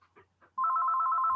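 A telephone rings at home, a steady electronic trill that starts abruptly after a few soft background noises and holds loud and continuous to the end.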